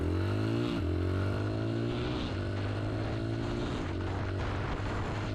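A motorcycle engine revving and upshifting, its pitch climbing then dropping at each gear change, loud and steady from close by with no talk.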